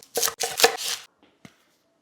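A knife chops a quarter onion on a board for lamb birria tacos, a quick run of four or five crisp close cuts, then a pause and one last tap.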